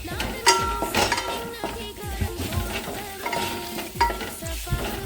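Ginger-garlic paste sautéed in a pan for beef masala gives a close, busy sizzle with repeated spatula scrapes and light metallic knocks, loud and continuous throughout.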